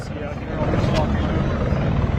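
A news helicopter hovers over MacArthur Park during a law enforcement operation, its steady rotor thump and engine whine loud and continuous beneath a presenter speaking.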